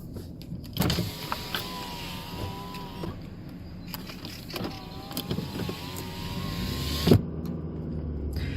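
A car's electric window motor whirs steadily as the window opens, in two long runs with faint interior rumble and small knocks around them, ending on a soft thud.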